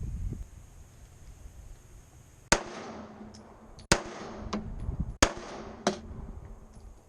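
Pistol gunshots at a practice range: four sharp, loud reports spaced about a second or more apart, each with a short ringing tail, after a quiet start.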